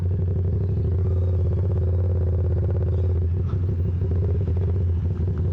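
A motorcycle rumbles past on a road in Batangas, a steady, loud low engine drone with some clatter that holds through the stretch and shifts slightly as it goes by.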